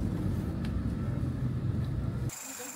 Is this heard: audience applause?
no